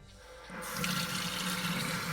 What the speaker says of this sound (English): We got water. It's overflowing.